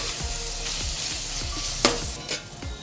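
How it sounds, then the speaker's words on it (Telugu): Tomatoes seasoned with salt and turmeric fry on a medium flame, a steady close sizzle running throughout with soft stirring scrapes and a sharper clack near the end; no voices. "బాగా కలుపుతూ ఈ విధంగా టమాటోని చక్కగా మీడియం ఫ్లేమ్లో మధ్య మధ్యలో కలుపుతూ బాగా మగ్గనిస్తాం"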